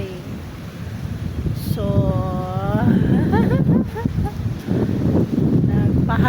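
Wind blows at a seaside beach, a steady low rumbling buffet across the microphone, with a person talking over it.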